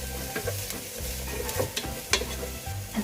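Onions and garlic sweat gently in a pan while being stirred, a soft low sizzle broken by repeated scraping strokes of a spoon against the pan.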